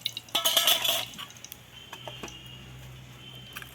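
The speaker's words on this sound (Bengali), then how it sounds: "একটা বাটির সাহায্যে আমি এটাকে চ্যাপটা করে দিয়ে দেবো" A bowl presses cabbage pakora mixture flat, giving a quick cluster of close, bright clinks and knocks in the first second, then a few softer scattered taps over a low steady hum.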